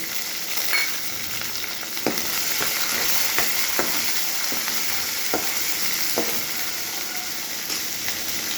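Green chilies and chopped onion fry in a pan for a vegetable vermicelli bath, a steady close sizzle broken by sharp, irregular ticks and scrapes of stirring, with no voices.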